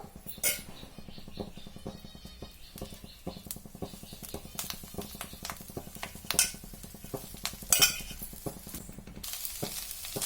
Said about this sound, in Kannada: ಇದೇ ಬಾಣಲಿಗೆ ಇನ್ನು ಸ್ವಲ್ಪ ಎಣ್ಣೆ ಸೇರಿಸ್ಕೊಂಡು ಕೊತ್ತಂಬರಿ ಸೊಪ್ಪು ಹುರ್ಕೋಬೇಕು